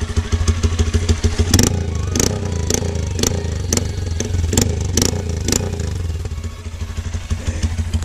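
Honda CG160 Fan motorcycle fitted with only the pipe of an XJ6 exhaust runs loud and close, a rough popping idle punctuated by a series of sharp throttle blips.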